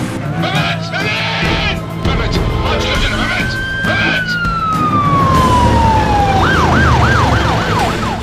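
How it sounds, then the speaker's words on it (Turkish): An ambulance siren sweeps in over a dramatic scene, its tone gliding downward and then settling into a rapid wailing warble near the end, loud amid busy background noise and voices. "Geliyor ambulans."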